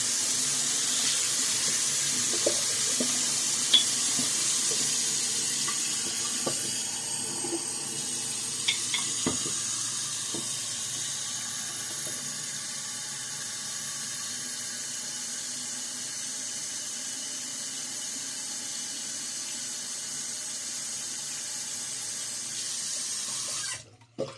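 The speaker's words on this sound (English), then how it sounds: "just filling up my bowl and scuttle" Tap water pours steadily into a shaving bowl and scuttle, a constant close hiss and splash with a few small clinks, running for about twenty seconds before cutting off abruptly at the end.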